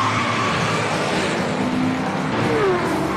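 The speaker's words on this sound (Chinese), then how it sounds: "关浩重新上路了。" A racing car pulls away from the pit lane and rejoins a formula circuit after a quick tyre change, its engine a steady loud drone throughout with faint whining pitch sweeps, no talk.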